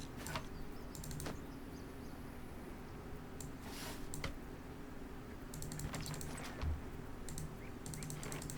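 Computer keyboard typing during a tabletop role-playing game session, faint clicks scattered over a steady room hum, with occasional denser bursts of keystrokes.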